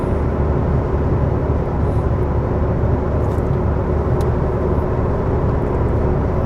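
Steady, loud road rumble of a SAAB 9000 Turbo cruising at speed on a freeway, a continuous low drone of engine and tire noise with no breaks.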